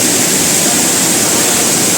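Somtirth waterfall at Nivendi in Ratnagiri's Konkan countryside pours in a loud, close, unbroken rush of white water, steady and dense throughout with no voices over it.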